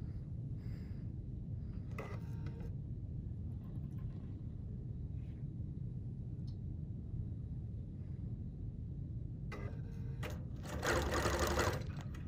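A BERNINA Q-matic quilting machine stitches a mask application with a steady low mechanical hum, with brief clicks along the way and a louder buzzing burst near the end.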